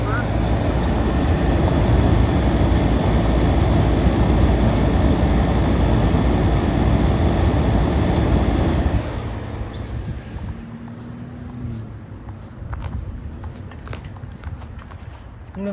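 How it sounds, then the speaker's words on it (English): An air conditioner condenser fan motor running on a hot day, a loud steady whooshing roar that drops abruptly to a quieter hum partway through, with some lighter clatter after. "Show you the fan motor."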